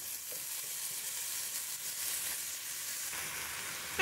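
Water spinach (kalmi greens) sizzles and fries steadily in hot spiced oil, a close, continuous crackling hiss with a brief louder burst at the very end.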